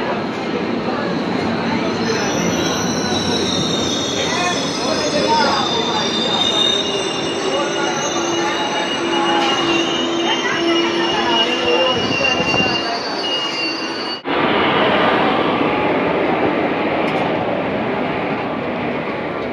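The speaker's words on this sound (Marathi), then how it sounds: "तुम्ही बघू शकता आता साईनगरची ट्रेन आलेली आहे" A Sainagar train pulls into an Indian railway station, its wheels letting out a loud, sustained high-pitched squeal over rumbling carriages and station noise, broken by a brief drop before the din resumes.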